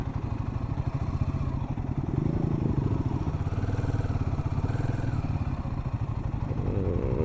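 A Royal Enfield Himalayan 450 adventure motorcycle idles nearby while being parked at a highway food court at night, a steady close thumping engine beat with slight swells in level midway.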